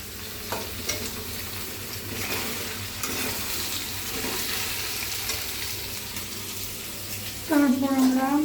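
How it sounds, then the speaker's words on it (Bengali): Carrots being stir-fried in a pan make a continuous bright sizzle, broken by scraping stirs and a few soft knocks, with a brief tonal sound just before the end. "প্রথমে আমরা গাজরটা দিলাম"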